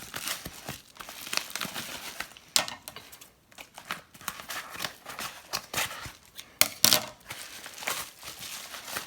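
Crinkling and tearing of paper packaging as a label is torn from an iPod box, with scattered rustles, a few sharp rips and handling noises throughout, close and fairly loud.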